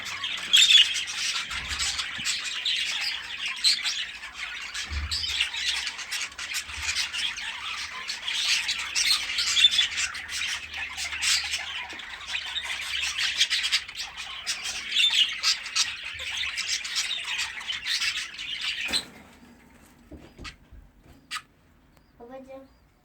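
Budgerigar chicks squawking in a breeding setup, a dense, continuous chorus of raspy, high-pitched begging calls close by for most of the time, fading out near the end with a few faint sounds after.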